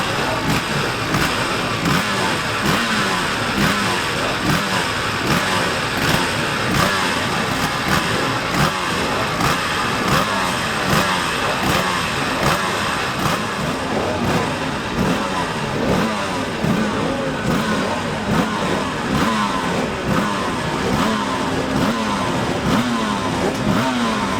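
Ryan Neame's Yamaha racing motorcycle at the Senior Classic TT 2016 gives a continuous loud, rough engine roar, revving and pulsing throughout, with a commentator's voice faintly mixed in.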